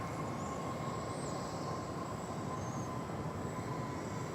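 A Boeing 787-8 Dreamliner airliner at DFW Airport produces a steady, even engine roar that stays constant throughout, with a faint thin whine on top and no voices.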